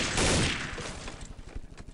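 Gunfire from a firefight against AI enemies in Counter-Strike: Condition Zero, opening with a loud dense burst that thins into a string of sharp, rapid shots.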